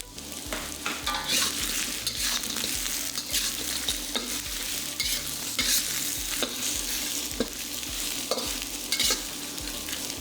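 Tofu frying in a pan with chilies and the white parts of green onions, a loud continuous sizzle broken by regular rhythmic stirring scrapes, close up with no voices.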